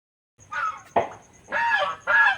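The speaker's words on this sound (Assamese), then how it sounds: "এইফালে হাঁহিও চিঞৰি আছে" Ducks call in a few loud, raspy honking quacks, close by, in separate bursts with short gaps between them.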